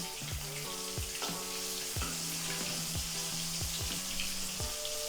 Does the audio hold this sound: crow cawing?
no